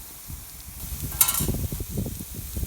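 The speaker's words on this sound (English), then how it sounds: "So I'm just gonna put these right here around the outside and let them grill." Onions grill around the outer edge of a pan for a lower-carb tuna casserole, giving a close, steady sizzle with scattered crackles and a few stirring scrapes, and no talking.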